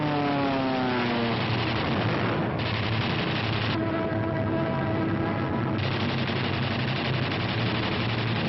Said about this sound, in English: German fighters attempting to intercept the heavy bomber attack are shot down by P-47s